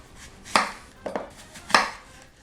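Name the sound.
knife slicing apples into rings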